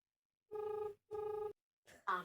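An outgoing phone call rings unanswered in the earpiece: two even ring bursts of about half a second each, with short gaps, followed by a faint, brief, different tone.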